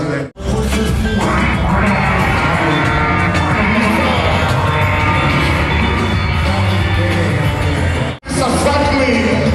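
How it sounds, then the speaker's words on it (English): A loud, dense burst of applause and cheering fills a hall at an end-of-year club party, nearly continuous with whoops and yells, broken by two brief dropouts. "Can we put our hands together for him?"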